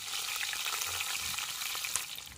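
Cumin seeds and curry leaves sizzle in hot oil as a steady, crackling fry with scattered pops and a brief stir, fairly quiet and continuous with no talk.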